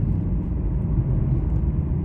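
A Lexus RC F in sport mode cruises around town, its engine giving a steady, loud low rumble heard from inside the cabin, with no voices.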